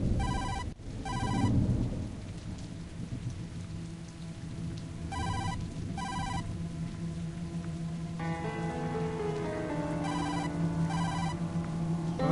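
In a Tokyo detective video game, a phone rings in repeated electronic bursts of trilling tones over a steady bed of rain, with a brief thud near the start and a low sustained tone joining later.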